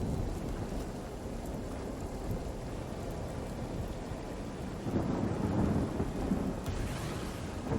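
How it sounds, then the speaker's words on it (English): Thunder from a lightning spell in the PC role-playing game Divinity: Original Sin, a continuous low rumbling roll with rain-like hiss that swells in the later seconds, steady and moderately loud with no talk. "Do a little more lightning."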